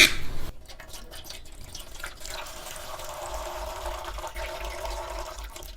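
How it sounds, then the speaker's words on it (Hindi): Diesel drains from the opened fuel filter of a Maruti Suzuki Vitara Brezza. After a brief louder splash at the start, it settles into a steady, close trickle of liquid running out, with no voices. "पहले सारे इसको ये अंदर जो डीजल होता है उसको ड्रेन कर लेंगे।"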